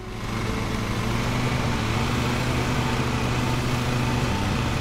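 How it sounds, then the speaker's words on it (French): A lawn mower engine drones steadily and loudly in Lawn Mowing Simulator, a dense, unbroken motor roar with no pauses throughout. "Je peux mettre moins fort le son de la tondeuse."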